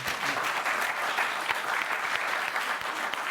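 A studio audience claps steadily and densely throughout, a continuous roar of applause at even loudness with no voices standing out.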